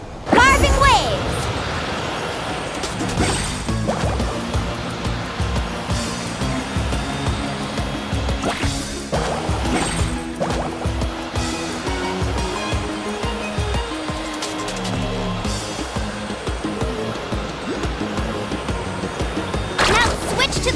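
Wave surfing in the video game Genshin Impact, a steady rushing whoosh of water with splashing swells and occasional sharper surges, continuous and fairly loud, with game music and voices mixed in.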